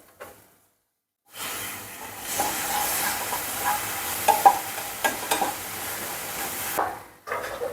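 Ripe tomatoes are stirred into a frying mixture in a pan, giving a steady hiss and sizzle with scraping stirs on top. The sound begins after a brief silence and runs evenly until it cuts off near the end.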